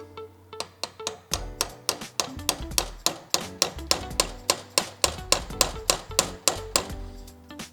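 Hammer tapping a part through inside an RM Suttner ST2000 wash gun clamped in a vise, with around thirty sharp, close metallic knocks at a steady, brisk pace that grow slightly heavier midway.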